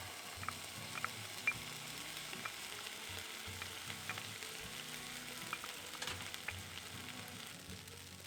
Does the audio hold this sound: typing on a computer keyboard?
no